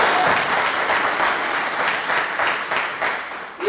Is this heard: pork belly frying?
no